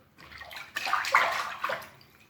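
Water gushes fast into a container, a steady loud rushing and sloshing that swells in the middle and then tapers off, with no voices.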